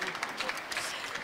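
Brief clapping from an audience welcoming a guest on stage, close and fairly steady, with no voices over it.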